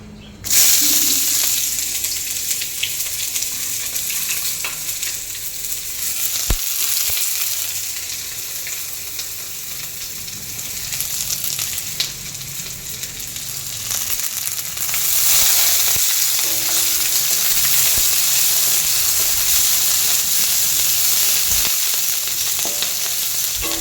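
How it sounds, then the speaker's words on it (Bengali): Spices and chopped onions fry in a pan for a winter khichuri, giving a steady, loud sizzle with occasional stirring scrapes that runs continuously throughout, with no talking. "এখানে মশলা ফ্রাই হয়ে গেছে, এখানে পেঁয়াজ কুচি দিয়ে দেবো।"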